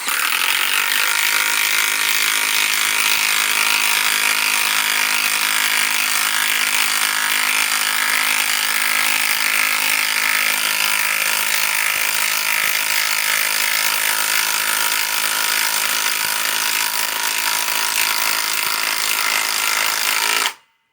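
A DEWALT DCF845 impact driver fitted with a right angle adapter drives a screw into a cabinet on speed 2, a continuous loud, close, hissing mechanical whir with rapid hammering texture held for about twenty seconds before stopping abruptly.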